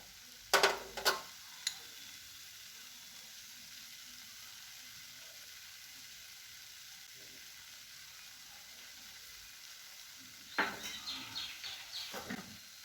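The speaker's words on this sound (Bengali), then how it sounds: "মশলাটা দিয়ে ভালো করে নাড়াচাড়া করে মিশিয়ে নেবো" Green mango and a roasted spice mix get stirred in a pan for mango laddoos, giving two short bursts of faint scraping and clinking, one at the start and one near the end, with near silence between.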